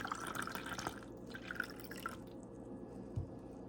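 Tap water poured into a test solution during an acid/base experiment, a faint quiet trickle with a few soft drips, close by and alone.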